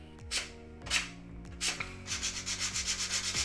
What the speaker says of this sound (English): I'm going to sand them down so that they're a bit smoother